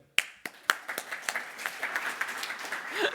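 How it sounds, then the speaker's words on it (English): An audience at an annual conference breaks into applause, a few sharp claps at first swelling into steady, dense clapping from many hands. "Give her a round of applause"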